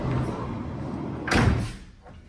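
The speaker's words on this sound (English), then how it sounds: "I'll open up that door for you now and show you the inside." Door on a 2015 Ford Transit Custom van opening, a single sharp clatter and slide standing out over a steady background, close by.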